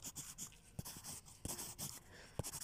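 Dark black marker pen drawing small leaves on paper, with quick, light scratchy strokes that come in short separate bursts, close and fairly quiet, with no one talking.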